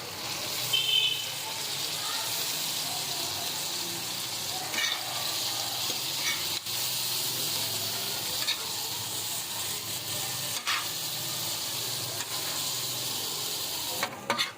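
Fried beef liver stirred into roasted masala on a tawa over low heat: a continuous close hiss of frying with occasional spatula scrapes and taps.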